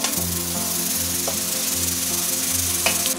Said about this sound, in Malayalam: അപ്പൊ ഇതിനെ എല്ലാം കൂടി ചേർത്ത് നല്ലോണം വഴറ്റണം അല്ലേ ഈ സമയത്ത്.